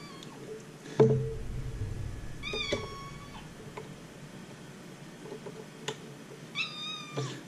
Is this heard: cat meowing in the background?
yes